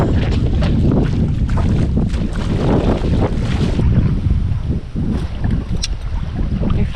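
Storm wind roars and buffets the microphone over Ceta lake on a carp fishing trip, loud and continuous, with rumbling gusts and a faint splash of choppy water underneath.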